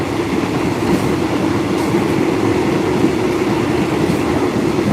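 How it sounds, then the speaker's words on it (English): Train rolling along tracks in Thailand on the way to Bangkok, a steady, loud rumble with continuous rattling and a faint metallic clatter throughout, no voices. "Rolling along the train."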